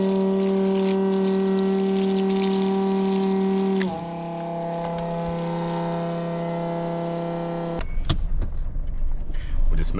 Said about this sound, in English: We'll just move the ute for the next part.